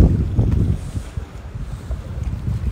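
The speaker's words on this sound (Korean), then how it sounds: "물소리." Water lapping along the Han River with steady low rumble and wind buffeting the microphone, fairly loud and continuous, no voices.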